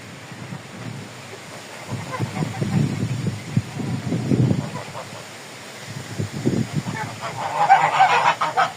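Geese honking nearby in irregular bursts, louder toward the end, over a soft background of wind and outdoor ambience.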